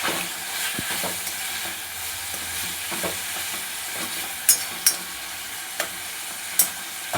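Cashews roasting in a pan give a steady dry sizzle with scattered clicks of nuts and a spatula stirring, plus a few sharp scraping taps near the end.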